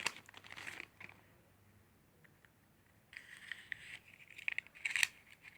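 A plastic Adidas shopping bag being handled: crinkly rustling bursts at the start and again toward the end, close and fairly quiet, separated by a near-silent pause.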